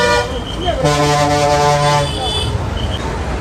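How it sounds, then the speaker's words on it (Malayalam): Loud, sustained horns of private buses blare close by over busy street noise at MGR bus stand, one long honk dominating while others toot around it, with a voice talking underneath. "പ്രൈവറ്റ് ബസ്സുകളെല്ലാം ഹോണടിച്ച് അകത്തേക്ക് പോവുകയാണ്"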